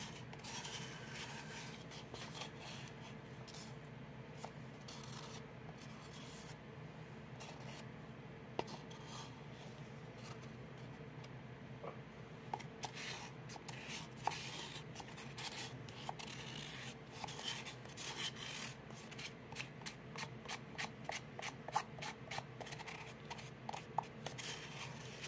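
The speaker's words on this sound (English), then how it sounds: "but I should scrape out what I can" Steady scraping and rubbing as Total Boat RAZzO craft product is scraped out of its container, continuous close rasping strokes that grow more clicky toward the end.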